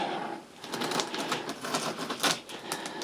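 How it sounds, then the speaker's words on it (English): An X-Acto knife slicing through packing tape on a cardboard carton, close and steady, a run of scratchy rasping strokes and small ticking catches over about three seconds, with no talking. "we're going to very carefully start cutting the tape"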